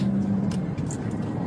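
A car with an automatic transmission downshifting, a steady engine drone with a shift in tone partway through, continuous and moderately loud road-vehicle noise with no talking.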